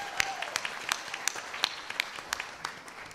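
Sparse, light clapping from a small audience, individual claps standing out rather than a full roar.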